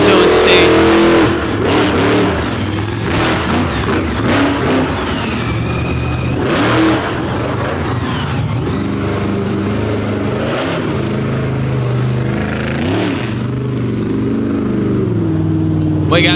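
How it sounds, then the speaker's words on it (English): Monster tow truck at an arena monster truck show in Pennsylvania, its big engine roaring loudly and revving continuously through a big air jump, with an announcer talking over it. "Nice big air hit from the big tow truck from right here in the Keystone State."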